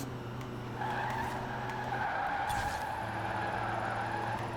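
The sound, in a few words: Rimac C Two car drifting, tires skidding, from video game Forza Horizon 4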